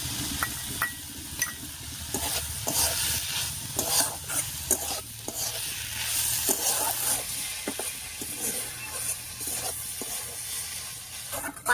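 Fried small prawns tipped into a pan of cooking teasle gourd leaves, stirred with a scraping utensil while the oil sizzles steadily, close and moderately loud, with irregular clinks and scrapes over a continuous hiss.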